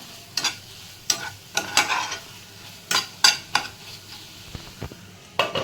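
A spoon scrapes and stirs pav bhaji masala with tomato and onion through a sizzling pan in irregular strokes, with a soft frying crackle underneath, close up and no voices.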